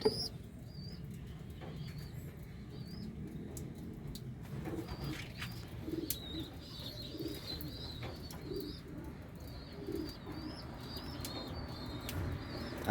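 Young racing pigeons cooing in a loft, several soft repeated coos with occasional wing flaps and chirps over a steady low rumble of background noise.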